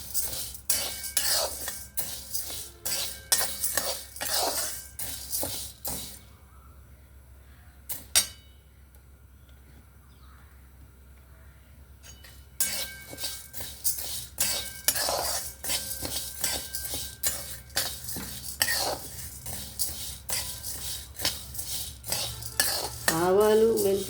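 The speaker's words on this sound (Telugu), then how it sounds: "ఇప్పుడు దీంట్లో నేను అన్ని పప్పులు వేసానండి, వేగిస్తున్నానండి." A spoon scrapes and stirs mixed lentils being dry-roasted in a pan, a close, busy rhythm of quick metallic scrapes and clinks, with a quieter pause in the middle before the stirring resumes.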